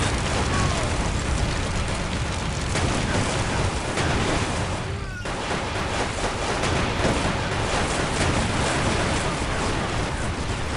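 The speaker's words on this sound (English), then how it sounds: "What is with the explosions, man?" Explosions and battle noise from the strategy game Iron Grip: Warlord rumble continuously, dense and loud, with a sharper blast about halfway through and no clear gaps.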